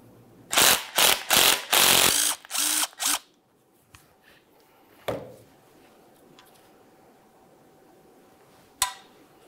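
A power tool rattles off rapid bursts, roughly six quick hits, removing the 14 mm strut center nut on a 2006–2012 Ford Fusion front strut mount, followed by quieter clicks and handling noises.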